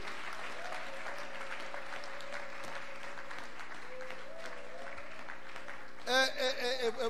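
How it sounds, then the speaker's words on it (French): Applause from a church audience at a Bible-week talk on Bible translations, a sustained, moderately distant clapping that runs steadily for several seconds before a voice breaks in near the end. "Est-ce qu'on peut applaudir pour la gloire de Dieu?"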